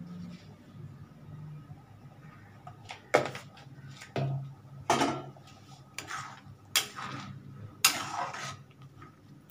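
Chana dal stirred in a pot with turmeric and salt, spoon knocks and scrapes against the metal coming every second or so over a quiet kitchen hum, close but soft, without talking.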